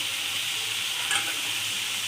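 Soybean chunks simmer in a home kitchen pan after water is poured in, giving a steady, even sizzle and hiss with a brief brighter spurt partway through, close and alone without talk.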